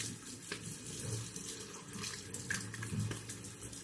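Running water from a sink tap splashing at close range during a shave, a steady quiet rush with small irregular splashes over nearly four seconds, no voices.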